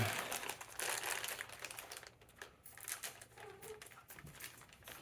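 Plastic packet of glue from a two-drawer nightstand kit being snipped open with scissors, a close crinkling of plastic and small cuts, with no one speaking.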